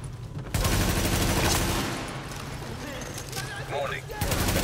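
Gunfire in The Division video game: dense bursts of automatic shots with loud sustained fusillade over much of the clip, sharing space with game voices and effects.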